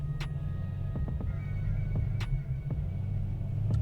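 LS3 Corvette engine and exhaust on a dyno, a low, steady rumble heard faintly at a distance with a few light clicks and knocks over it.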